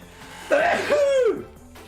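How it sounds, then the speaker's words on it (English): A single loud sneeze bursts out with a drawn-out voiced cry, close by, then quiet. "That was quite a sneeze."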